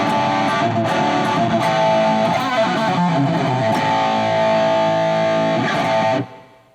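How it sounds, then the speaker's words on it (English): Electric guitar chords through a Panama Guitars Shaman 20-watt all-tube amp head, ringing out with a distorted tone and a touch of reverb, delay off, strummed steadily before stopping abruptly. "Tiny bit of reverb."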